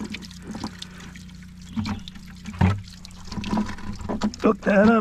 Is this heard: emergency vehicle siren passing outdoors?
no